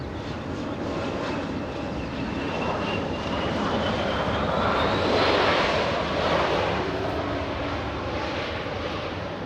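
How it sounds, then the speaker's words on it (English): A SkyWest passenger jet arriving at LAX airport, its engine roar loud and continuous, swelling toward the middle as it passes close and then easing slightly. "We have SkyWest 4025 flying in from Oakland,"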